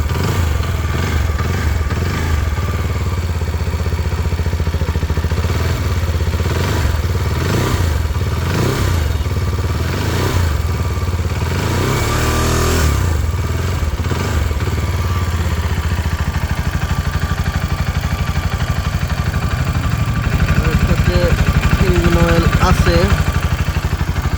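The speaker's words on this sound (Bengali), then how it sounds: "সিএফ মোটো এসআর থ্রি হান্ড্রেড বাইকটার সাউন্ড কেমন আপনাদের একটু শোনানোর চেষ্টা করি" A CFMoto SR300 sport motorcycle engine idles steadily up close, then revs up in several bursts before settling back, with a voice talking over it.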